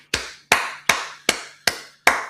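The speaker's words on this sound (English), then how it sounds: "let's clap it up." Six sharp, evenly spaced hand claps, roughly one every 0.4 seconds, loud and close with short decays, alone without talk.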